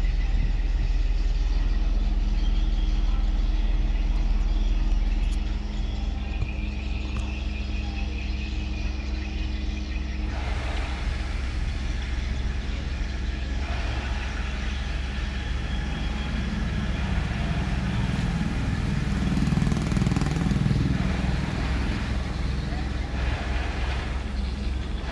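A large boat's engine, on a vessel about 22.5 m long and 6 m wide, runs in a steady low drone as the boat backs up against the current, with water noise and a rumbling swell near the end.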